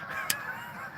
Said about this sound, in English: now we're going to get a flock of geese flying by